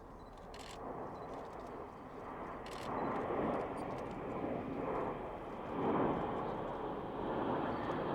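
Red Arrows display jets roar overhead at the Yeovilton air show, a distant, sustained broadband rumble that swells and fades as they pass, with faint crowd and camera clicks.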